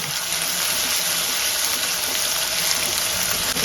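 Ginger garlic paste frying in hot oil for mutton keema fry, a steady dense sizzle holding evenly throughout with no pauses or talk.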